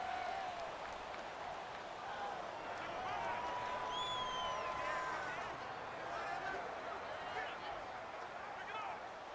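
Loud stadium crowd noise at an NFL game between the New Orleans Saints and Green Bay Packers, a steady roar of cheering and whistling that persists throughout with a broadcast commentator's voice over it.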